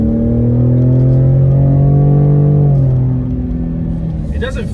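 A 2020 Ford Raptor truck's exhaust drones steadily from inside the cab as it accelerates, a loud, smooth low rumble holding for about three seconds and then easing back, with no one speaking.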